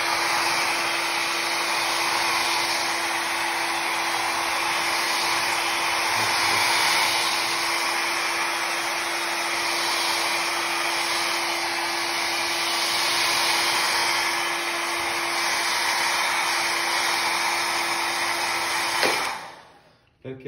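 A hair dryer blows over an IKOHS S18 robot vacuum, giving a steady, close, continuous whooshing roar with a constant motor hum that runs unbroken for about nineteen seconds before cutting off.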